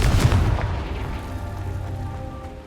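Bombarda and Confringo spell blasts from a Hogwarts wizarding video game, a heavy booming impact up front that rolls away into a fading rumbling tail, loud and close with no talk.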